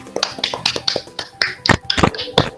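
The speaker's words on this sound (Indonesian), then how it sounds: "Beri tepuk tangan lagi." Classroom applause as students clap after a group presentation, a brisk run of sharp, fairly close claps in an uneven rhythm lasting a couple of seconds.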